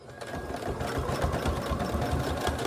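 A sewing machine runs steadily, stitching back and forth over elastic on a fabric face mask, its close, continuous mechanical whir filling the whole stretch with no talking.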